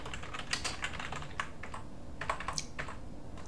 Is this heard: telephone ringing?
no